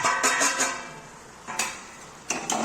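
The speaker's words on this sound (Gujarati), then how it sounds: "હવે બધું જ આપણે સરસ રીતે મિક્સ કરી દઈશું" Metal spatula scrapes and clinks in a pan while coriander-cumin powder, Kashmiri red chilli and garam masala are mixed into paneer bhurji: a quick run of close scrapes, a lull, then a few more strokes near the end, no talking.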